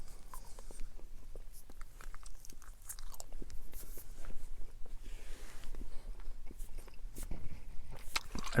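Extra Polar Ice chewing gum being chewed close up, a steady stream of soft wet clicks and crunchy smacks repeating irregularly throughout with no talking.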